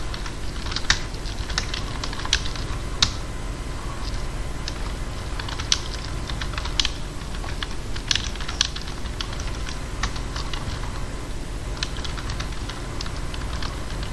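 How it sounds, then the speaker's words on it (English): Rapid typing on a computer keyboard while editing a batch file: irregular bursts of crisp, close key clicks with occasional louder keystrokes over a low steady background hum. "Now start typing,"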